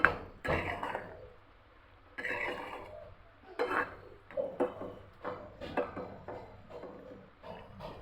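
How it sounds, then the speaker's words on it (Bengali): Beef liver bhuna being stirred in a pan with a spoon, giving a series of soft scraping and clattering strokes at uneven intervals, fairly quiet and close with no voices. "গরুর কলিজা ভুনাটা আমি নেড়ে দিচ্ছি।"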